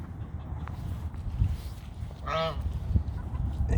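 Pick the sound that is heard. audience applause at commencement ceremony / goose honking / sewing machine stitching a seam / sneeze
goose honking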